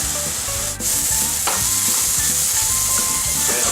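Seasoned mushrooms frying in a pan, a loud steady sizzle with rhythmic stirring and scraping throughout, no voices.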